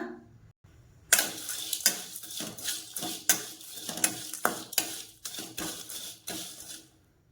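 Whole spices, including a piece of nutmeg, dry-roast in a pan over a low flame, with a rhythmic rattling scrape of stirring repeated every half second or so, fairly close and with no voices.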